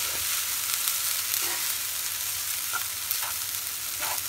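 Prawn kimchi fried rice with soy sauce frying in a hot pan, a loud close continuous sizzle broken by a few light scrapes as the rice is tossed, with no talking.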